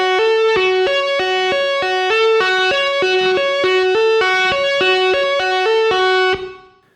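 Electric guitar playing a two-hand tapping pattern from a solo, a fast even stream of bright repeating notes alternating between two pitches, loud and continuous for about six seconds before ringing out alone.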